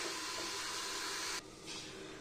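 Chicken curry with potatoes simmering under a lid in a pot, a steady close broadband hiss that drops abruptly partway through and then eases back a little, with no voices.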